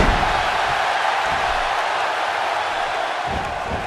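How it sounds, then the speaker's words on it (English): Arena crowd in the wrestling video game WWE 2K16, a dense sustained roar of cheering that stays loud and steady throughout, with faint thuds beneath. "by the sound of this crowd, I think they're getting what they wanted"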